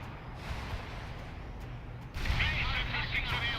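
Missile launches and artillery fire in the World in Conflict strategy game, heard as low rumbling booms followed by a louder burst of hissing blasts, with radio-style unit voices over the combat.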